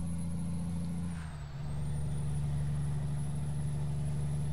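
An old Kenworth cab-over truck in American Truck Simulator drones with a low, steady engine rumble as it bogs down at low RPM, dipping briefly under a jake brake, with a faint high whine running throughout.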